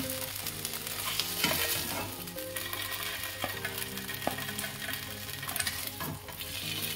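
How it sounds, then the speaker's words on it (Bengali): Paneer cubes shallow frying in oil in a pan, a quiet steady sizzle with occasional utensil taps and stirring, no voices. "শ্যালো ফ্রাই হোক।"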